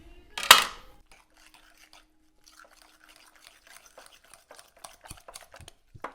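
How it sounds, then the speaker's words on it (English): Diced jalapeños tossed into a pan and stirred, a sharp clatter and sizzle at first, then scattered light scraping and clinking of a utensil against the pan, close and fairly quiet. "Toss them in there, and we'll give this thing a mix."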